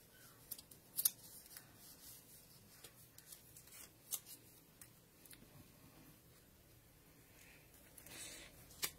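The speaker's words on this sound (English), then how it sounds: "And the scissors." Quiet, crisp snips and papery rustles come in irregular bursts, close and faint, with no voices.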